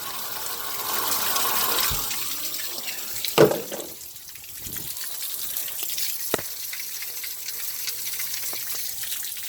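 Water running out inside a plumbing pipe with a bad tailpipe, a steady hissing gush of flow, broken by a few sharp knocks and clunks.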